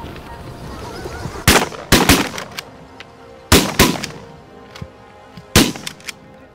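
Several loud shotgun blasts fire in quick pairs and singles during an outdoor waterfowl hunt, with sharp reports and brief echoing tails.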